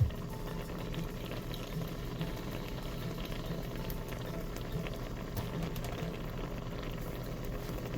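Topokki carbonara sauce bubbles at a steady boil in a pot, a soft continuous burble of popping bubbles, close but fairly quiet, with no voices.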